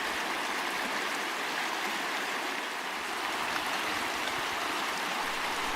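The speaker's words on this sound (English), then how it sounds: "Another stream crossing." A cold mountain stream on a backpacking route near Brazeau Lake in Jasper, flowing in a steady, close, broadband rush that never lets up, with no voices.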